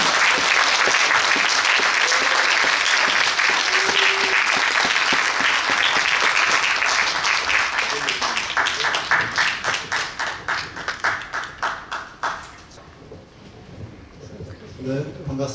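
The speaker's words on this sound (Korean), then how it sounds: "강연을 위해 나오실 때 큰 박수 부탁드리겠습니다" Audience at a citizens' academy lecture in Sejong gives a big round of applause for an arriving speaker, loud and dense at first, then thinning into scattered individual claps that fade out.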